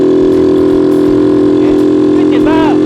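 Yamaha LC135 motorcycle fitted with a high-lift cam, engine blipped hard from low rpm, a loud steady drone with rising harmonic sweeps near the end, close by.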